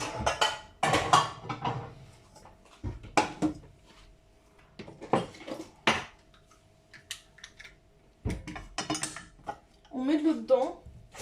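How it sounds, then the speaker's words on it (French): In a home kitchen making ratatouille, the largest saucepan is pulled out in a series of close metallic clanks and rattles, with someone speaking between the bursts. "on prend la plus grande casserole qu'on a"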